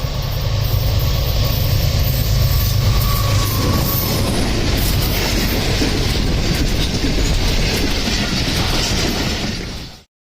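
A train rumbles steadily along the rails at close range in Pakistan, a loud continuous roar with rhythmic clattering wheels, fading out abruptly at the end.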